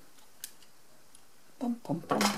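Paper craft scissors, old and worn, snipping through material in a few quick close cuts after a quiet stretch, with a faint earlier click.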